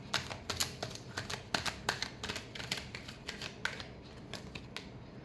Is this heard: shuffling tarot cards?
yes